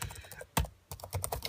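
Quick, light keystrokes clatter on the flat chiclet keyboard of a Toshiba Satellite Pro R60 laptop, a brief pause in the middle before the tapping resumes at a steady, close pace.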